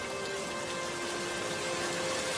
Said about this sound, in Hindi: ये बारिश है जो रुकने का नाम ही नहीं ले रही